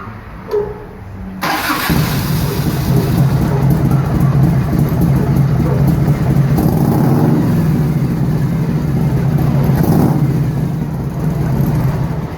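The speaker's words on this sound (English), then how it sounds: "And this is how it runs, okay?" Motorcycle with a 1991 Evolution engine and CV carburetor starts after a brief click and settles into a steady, loud, close idle with a low rumbling throb that holds for the rest of the clip.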